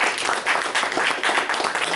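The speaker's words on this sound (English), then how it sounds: "Let's give them a round of applause, guys" A brief round of applause from an audience after a startup final pitch, steady clapping from a crowd with little talk.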